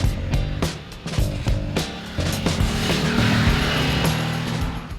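A 2022 Harley-Davidson Nightster 975 motorcycle riding, its engine note rising and falling through gear changes with a few sharp bursts, fairly close and steady over five seconds, with no talking.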